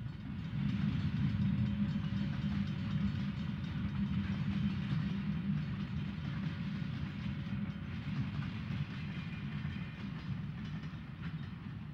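A Southern Pacific freight train hauled by SD45 locomotives rumbles past steadily for the whole stretch along Cache Creek, a continuous heavy roar with faint metallic clatter and a thin sustained whine.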